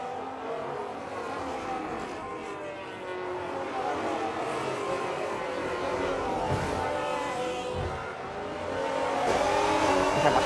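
Simulated F1 race cars from the F1 26 game roar around the Azerbaijan circuit, a continuous layered engine whine with shifting pitches as cars close in and pass, swelling louder toward the end.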